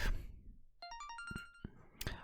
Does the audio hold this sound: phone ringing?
yes